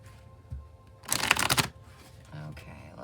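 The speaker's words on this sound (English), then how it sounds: "I'll shuffle till the deck feels ready" A tarot deck is shuffled in one quick riffle burst up close, bracketed by softer handling clicks and quiet movement.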